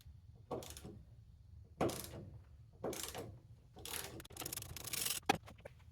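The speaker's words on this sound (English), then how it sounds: "I'm taking off this bolt down this end of the steering shaft." Ratcheting and metallic clicking come from loosening a bolt at the lower end of a car's steering shaft, in several short close bursts separated by pauses.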